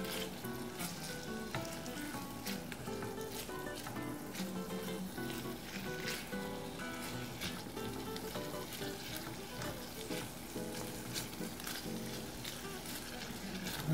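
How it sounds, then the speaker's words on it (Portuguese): Meat fries in a pan with a steady, close sizzle and crackle throughout, continuous spitting pops with no break. "Nós vamos deixar ela fritando"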